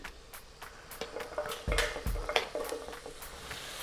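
Carrots, onions and celery being stirred in a pot with leftover buttery fat, heard as scattered clinks and scrapes of a utensil against the pot, some sharper knocks in the middle, fairly quiet and close.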